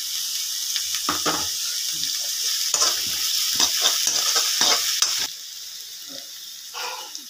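Finely chopped onions saute toward golden in a pan for kaima idli, a bright continuous sizzle punctuated by repeated spatula scrapes and stirs, easing to a gentler hiss near the end.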